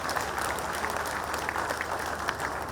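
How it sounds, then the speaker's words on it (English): A dinner audience claps steadily for a few seconds, a dense, even patter of applause at moderate volume with no talking. "Please, a round of applause for the NDC."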